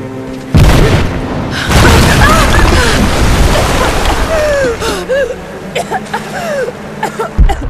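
A loud explosion blasts through a wall in Rise of the Tomb Raider, a heavy boom followed by rumbling debris and sloshing, with scattered clatter and thuds trailing off afterward.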